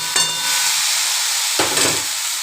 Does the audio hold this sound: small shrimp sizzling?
yes